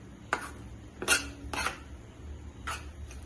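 Spoon scraping and stirring a sweet milk mixture made from spoiled milk with ghee in a pan, heard as a few scattered, soft clinks and scrapes against quiet room background.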